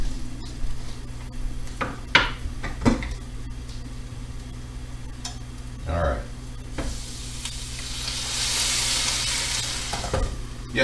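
Small-pan sizzling as filtered water is added to a hot pan for pasta primavera, with a few sharp clicks and clatters, rising into a brighter, hissing fizz toward the end; a voice speaks briefly.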